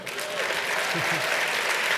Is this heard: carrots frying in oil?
no